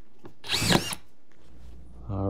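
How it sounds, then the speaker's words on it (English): A drywall screw gun drives a screw through new drywall into furring strips, a short loud whirring burst up close, followed by a quieter pause and the motor starting to spin again. "Drywall gun."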